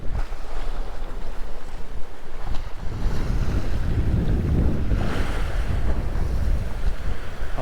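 Strong coastal wind buffets the microphone in a continuous loud roar over surf at Parc National du Bic, Canada. Waves wash in the background on a bright day, and no one speaks.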